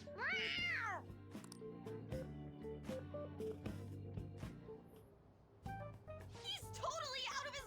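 A cat meowing in a video game, loud wavering meows at the start and end, with game music and character voices in between.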